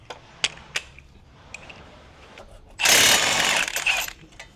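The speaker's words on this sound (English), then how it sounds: "Get a little impact action on her." An impact wrench on a 22 mm bolt rattles hard for about a second and a half while removing a front brake caliper on an Infiniti G35/G37, after a few sharp metallic clicks and taps nearby.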